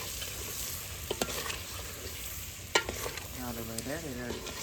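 Gravy with a tempering of spices sizzles and fries in a pan while a spoon stirs and scrapes it, making faint crackling with occasional clinks against the metal.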